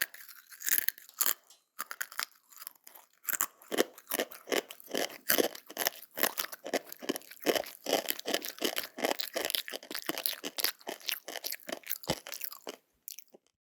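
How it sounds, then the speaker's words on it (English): Someone eats crunchy chips close up, a long dense run of crisp bites and chewing crunches in an irregular rhythm, with no talk. "This is the sound of eating chips."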